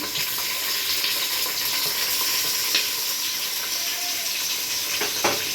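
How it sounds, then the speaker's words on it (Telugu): Cut vegetables for vegetable pulao frying and being stirred in a pan, a loud continuous sizzle with scraping stir sounds and a few sharper knocks toward the end. "కట్ చేసిన కూరగాయలు వేసుకున్నానండి"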